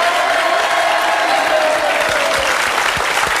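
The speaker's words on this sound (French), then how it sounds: "qu'on peut applaudir très fort" Studio audience applauding a guest on a French television talk show, a dense steady clatter of many hands that holds at full strength for the whole stretch.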